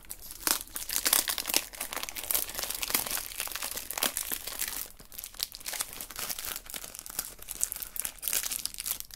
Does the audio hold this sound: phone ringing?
no